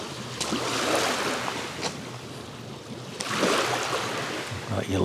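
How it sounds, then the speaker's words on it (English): Waves lap and wash onto the Windermere lake shore in two gentle surges, a soft rushing swell with light splashes, with a little wind and faint voice-like sound in the background. "Lovely sound, with the waves coming in."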